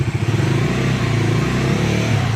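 A 2026 Bajaj Dominar 400 motorcycle engine revs close and loud, a throbbing, pulsing growl that holds steady and rises slightly through the rpm range, with no talking over it.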